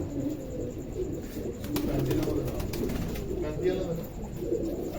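Pigeons coo in low, throaty bursts nearby while drinking water, partly overlapped by a person talking in the background.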